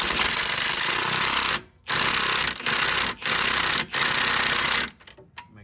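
A bolt on a Dodge Charger camber kit is tightened in loud, rattling hammering bursts, about five of them, split by short gaps and ending in a quieter trailing clatter.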